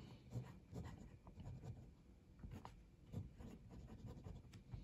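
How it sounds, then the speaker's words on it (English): Writing with a Platypus Quokka fountain pen fitted with a medium No. 6 nib on paper: soft, close scratching nib strokes with a steady rhythm and a few sharper ticks, no talking. "So let's just do the little writing here."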